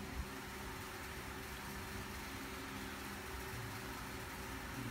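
An electric fan runs steadily in a workshop during a crank bolt repair on a mountain bike, giving a constant whooshing hum with a low mechanical drone, alone and unchanging throughout.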